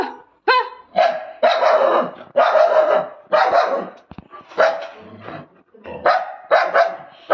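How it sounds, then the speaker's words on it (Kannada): Dogs bark repeatedly in the dark, a loud, close run of harsh barks in uneven bursts with brief pauses, continuing steadily for several seconds. "ಬೊಬ್ಬೆ ಬೊಬ್ಬೆ ನಾಯಿಗಳದು ಬೊಬ್ಬೆ"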